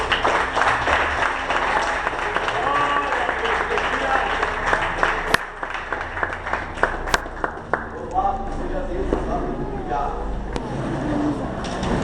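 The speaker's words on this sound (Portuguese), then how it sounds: "E as palmas vão ao Senhor." Church congregation clapping during a service, a broad layer of many hands applauding mixed with voices and murmuring, thinning into scattered claps and talk toward the end.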